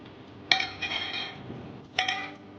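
Chicken pieces mixed by hand with salt and oil in a bowl give two sharp clinks of utensil on dish, followed by soft, faint rustling and shuffling, close and quiet, with no talking.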